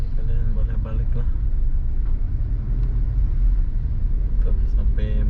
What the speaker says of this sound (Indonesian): Tuh sampai macet-macet pula di depan kita itu.